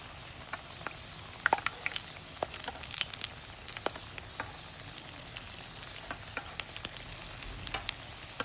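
Gunsakh pastries frying in oil that has grown a little too hot, a steady close sizzle with scattered sharp crackles and pops throughout, and no voices.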